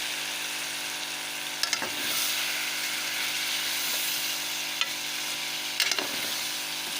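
Pre-fried chicken sizzles steadily in a pan with an even, continuous frying hiss and a few faint clicks of stirring, no voices over it.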